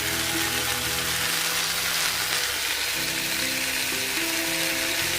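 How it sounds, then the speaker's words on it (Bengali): Sliced okra (bhindi) frying in a pan gives a dense, continuous sizzle, loud and near, holding steady for several seconds with a faint underlying hum. "এদিকে ভেন্ডি ভাজা হচ্ছে"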